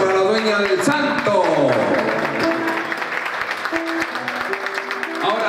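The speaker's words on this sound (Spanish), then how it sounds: "¡Fuerte los aplausos para la dueña del santo!" A crowd at Fanny's 70th birthday party applauds in a broad wash of clapping, mixed with music and a voice talking over it.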